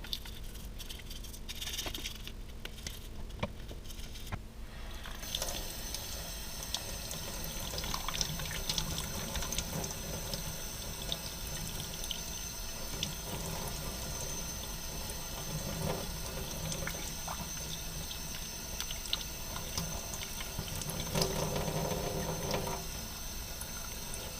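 Water patters and streams steadily over a toy S98 Gleaner combine, like a running tap rinsing plastic, fairly quiet and continuous with no talking.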